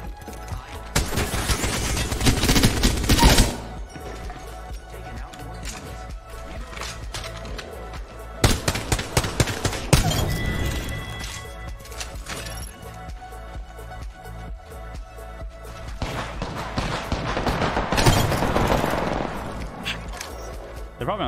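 Bursts of rapid automatic gunfire from a first-person shooter video game, with dense rattling volleys at the start, in the middle and near the end over continuous game noise.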